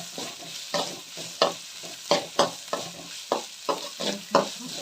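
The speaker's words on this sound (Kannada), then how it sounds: "ಚೆನ್ನಾಗಿ ಹುರಿಬೇಕು ಸ್ನೇಹಿತರೆ. ಈರುಳ್ಳಿ ಎಲ್ಲ ಎಣ್ಣೆಗೆ ಚೆನ್ನಾಗಿ ಕೆಂಪಾಗಬೇಕು" Onions fry in oil for a tomato gojju, a soft steady sizzle punctuated by about a dozen rhythmic scraping stir strokes, close up and with no speech.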